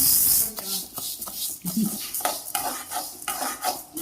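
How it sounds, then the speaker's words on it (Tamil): A spoon stirs and scrapes through dry urad dal roasting in a pan for idli podi, with rhythmic rattling strokes and a faint sizzle underneath. "உளுந்து போல் எடுத்து வச்சுருக்கேன், வறுத்து எடுத்துக்குவோம்."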